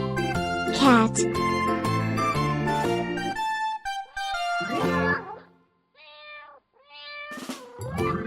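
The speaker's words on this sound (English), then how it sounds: "cat," A cat meows several times in a row with a musical backing, the calls loud and close, broken by short gaps, followed by a few quieter, higher cries near the end.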